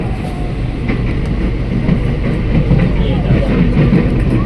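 A crowded twelve-car KRL INKA commuter train rolls toward Cawang on the way to Manggarai, a loud, steady low rumble and rattle heard from inside the car, with voices murmuring underneath.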